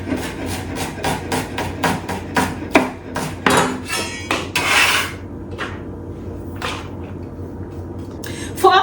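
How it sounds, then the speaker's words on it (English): A knife mincing shallot on a cutting board for mac and cheese: quick, steady rhythmic chops for several seconds, then slower scattered strokes and scraping, loud and close. "Next, we need some shallot for our mac and cheese. Going to mince it very,"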